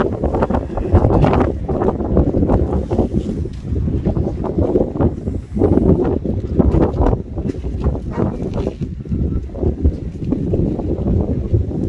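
Strong gusting wind on La Palma, near the volcano and lava flow, roars and buffets the microphone continuously, loud and rough throughout with no voices.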